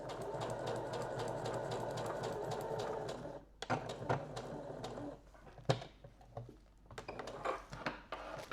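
A sewing machine stitches darts at a 7 mm seam, a fast steady whir for a few seconds, then stops and restarts in shorter bursts mixed with light handling clicks.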